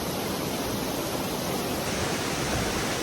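A waterfall near Mount Rainier in Washington roars as a steady, close, dense rush of falling water that completely fills the sound with no let-up.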